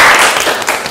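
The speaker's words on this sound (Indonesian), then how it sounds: "Oke, tepuk tangan untuk kita semua." Classroom audience applauding during a guidance and counseling teaching session, a dense wash of clapping for about a second with no speech over it.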